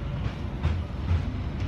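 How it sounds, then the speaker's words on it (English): Train rolling along the rails on a Swiss alpine route near the Gotthard, a steady low rumble with soft rhythmic clatter throughout, fairly close and continuous, with no talking. "Now back on the train."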